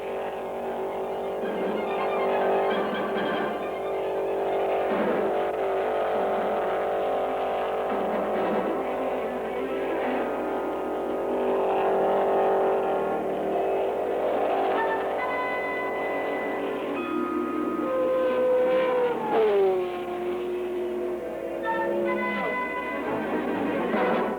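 A rear-engine race car turns record-setting qualifying laps at the 1964 Indianapolis 500, its engine drone steady and continuous with pitch sweeps as it passes, heard through an old, muffled film soundtrack.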